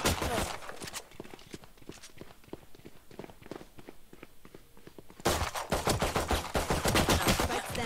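Rapid gunfire in Valorant cracks in repeated bursts, spaced shots at first, then dense loud volleys toward the end, with faint voices underneath.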